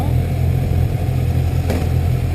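A 2020 Kawasaki Z1000 naked motorcycle idling in gear, a loud, close, steady low engine rumble with a slight shudder throughout, no voices.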